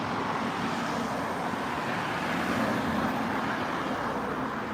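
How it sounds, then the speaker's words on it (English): Continuous roadway traffic noise, a broad steady rush of passing vehicles with no voices. "A bit of traffic noise"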